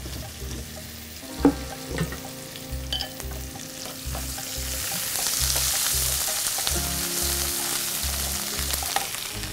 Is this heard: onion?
yes